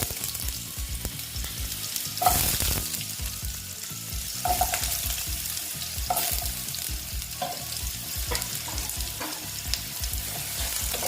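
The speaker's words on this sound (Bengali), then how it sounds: "আলুগুলো আমি দিয়ে দেবো ভেজে নেব" Potatoes fry steadily in hot oil with a continuous sizzle, punctuated by occasional scrapes and stirring clatter from a utensil in the pan; close and fairly loud, with no voices.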